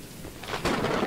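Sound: thunder and rain in video game Choo Choo Charles

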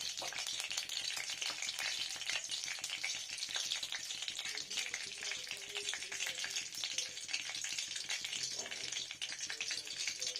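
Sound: panch phoron spices sizzling in hot oil

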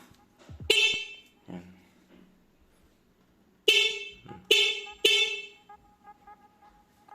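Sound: motorcycle horn being tested after wiring

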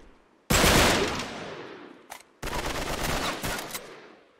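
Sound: gunfire in Uncharted 3 video game

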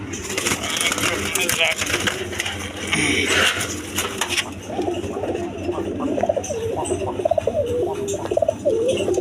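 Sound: pigeon cooing

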